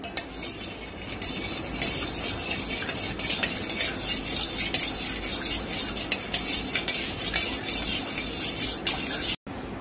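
A spoon stirs lemon sherbet with cardamom powder, clinking and scraping steadily against the vessel for several seconds. There is a dense, continuous rustling bed beneath it and no voices.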